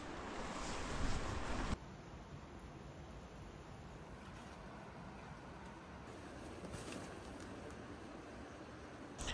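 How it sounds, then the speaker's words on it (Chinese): Stream water flows steadily outside an abandoned roadside toilet on the Qinling Baoxie road, a continuous broadband rush with a louder burst at the start, heard alone without talk. "听一下外面的溪水声"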